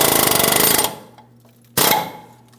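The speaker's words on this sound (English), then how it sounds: "I'm going to start tapping this out of position" Rapid, loud hammering on the upper control arm bushing bolt of a 2007-2014 GMC Sierra 2500 HD, a dense rattling burst of under a second, then a pause and a second, shorter burst.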